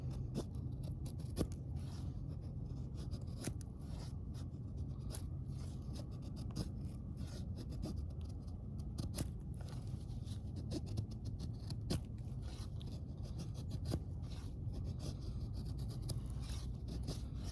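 A Mora knife carves wood curls with sweeping strokes, making repeated close scraping and shaving sounds in an irregular rhythm over a steady low background rumble, with no talk.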